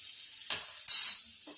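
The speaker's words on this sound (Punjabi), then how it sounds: "ਤੇਲ ਆਪਣਾ ਗਰਮ ਹੋ ਗਿਆ ਹੁਣ ਆਪਾਂ ਇਹਦੇ ਵਿੱਚ ਹਿੰਗ ਪਾ ਦਵਾਂਗੇ" Asafoetida hits hot mustard oil in a pan, giving two short bursts of sizzling hiss with a faint utensil tap between, close and brief against near silence.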